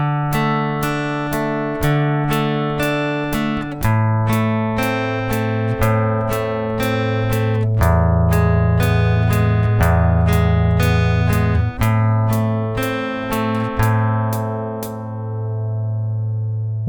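Slow fingerstyle acoustic guitar line, steadily plucked notes over a sustained bass, changing chords every couple of seconds for around seventeen seconds, clear and close with no talking.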